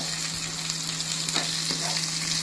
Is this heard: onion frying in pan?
yes